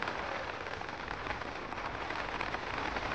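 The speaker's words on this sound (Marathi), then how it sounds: "जोरदार पाऊस आलेला." Heavy rain falling over a garlic field, a dense, steady broadband patter of drops hitting surfaces close by, with no voices.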